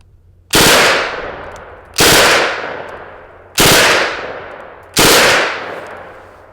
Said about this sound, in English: this is also going to be a really fast-firing gun